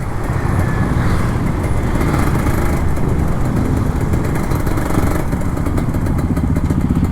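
An older Kawasaki Ninja RR 150 two-stroke motorcycle rides along in traffic, its buzzing engine a loud, continuous drone mixed with wind and road noise, no voices over it.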